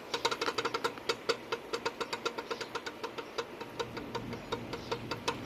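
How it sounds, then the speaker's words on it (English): A basket on a RadMini electric bike rattles in quick, steady, evenly spaced clicks, close and persistent over a low background hum. "the verdict's still out on the basket. Just makes a little too much noise."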